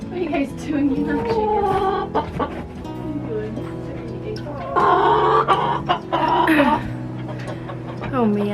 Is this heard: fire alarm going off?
no